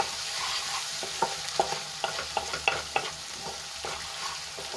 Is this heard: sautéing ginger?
yes